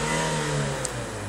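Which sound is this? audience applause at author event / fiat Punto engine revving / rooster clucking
fiat Punto engine revving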